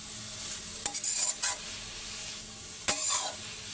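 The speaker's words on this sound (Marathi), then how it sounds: "ह्याला मी 2 मिनिटं परतून घेणार आहे." Garlic and fenugreek leaves (lasuni methi) being sautéed in a pan, with two short bursts of spatula stirring and scraping over a faint, steady background sizzle.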